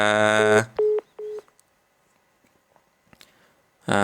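Touch-tone telephone dialing on a call-in radio line: two short paired beeps, then faint clicks in near silence, with a voice talking before and after.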